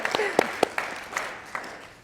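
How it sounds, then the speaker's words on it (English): A few scattered claps from an audience at a conversation event, sharp distinct slaps spaced irregularly over a quiet room tone, briefly following talk. "Yeah, round of applause."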